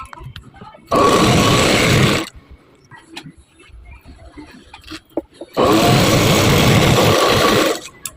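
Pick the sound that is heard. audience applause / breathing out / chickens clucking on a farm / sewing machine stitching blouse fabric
sewing machine stitching blouse fabric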